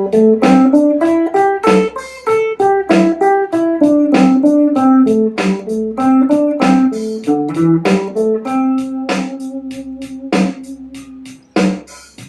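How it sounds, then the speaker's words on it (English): Electric guitar plays a steady stream of melodic eighth notes with alternate down-up picking, each note clearly articulated in an even rhythm, close and loud with no talking. "So a simple stream of eighth notes played melodically will sound like this."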